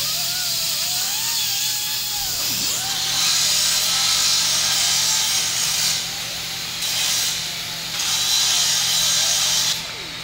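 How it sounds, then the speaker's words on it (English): Several power tools whine and hiss at once, with pitch dips and surges of high-pitched air noise starting and stopping in a busy shop building suspension for a 2024 Jeep JL Rubicon. "everybody fires up every single power tool in the shop."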